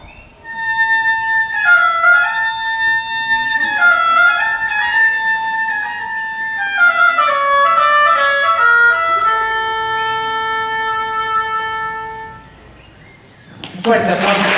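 A solo oboe plays a slow, reedy melodic line with sustained notes for several seconds at a Veracruz State Symphonic Band concert, then stops; a brief burst of noise follows at the end.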